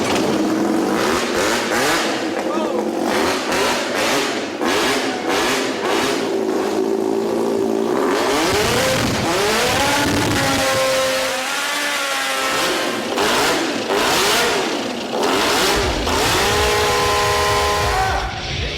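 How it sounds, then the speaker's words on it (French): A DeLorean-based hovercraft's engine catches on its first start and revs repeatedly, pitch sweeping up and down in loud, close bursts, settling between throttle blips. "le moteur est prêt pour son premier démarrage."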